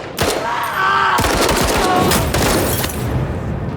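Burst of gunfire from a tactical strategy game, a rapid cluster of sharp shots and booms ringing out loudly one after another with no talking.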